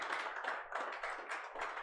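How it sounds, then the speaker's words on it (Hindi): Sustained applause from a crowd, a dense, steady wash of clapping with no voices, lasting the whole moment. "जोरदार तालियों के साथ स्वागत"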